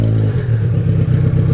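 A Kawasaki Z1000 motorcycle engine runs loud and close, a steady deep rumble with a slight rise partway through, continuous and alone with no talk over it.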